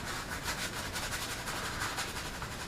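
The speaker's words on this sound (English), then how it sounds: "lather it up on the face," A shaving brush works lather over the face in a quiet, continuous bristly rubbing and swishing with a steady back-and-forth rhythm, close up and with no talking.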